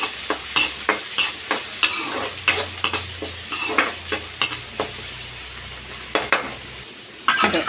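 Onion, green chillies and curry leaves sizzle in a hot pan while a utensil stirs and scrapes them in repeated strokes, roughly twice a second, close and fairly loud.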